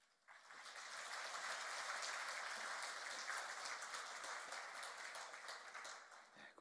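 A church congregation claps to welcome a pastor, a fairly faint, continuous round of many hands that swells quickly and holds steady for several seconds before easing off.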